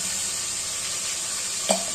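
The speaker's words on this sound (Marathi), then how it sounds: "याला लालसर फ्राय होऊ देऊया" Steady, close hiss of a tempering (phodni) frying and sizzling in a pan for pulao, continuous and even, with one brief clink near the end.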